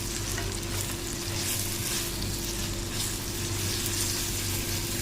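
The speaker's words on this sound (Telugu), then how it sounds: "అల్లం వెల్లుల్లి పేస్ట్ వేసుకొని అల్లం పచ్చివాసన పోయేంత వరకు బాగా అయితే వేపుకోవాలి" Ginger garlic paste frying in a pan for chicken curry, a loud, dense, continuous sizzle with the scrape of stirring running throughout, close up and alone.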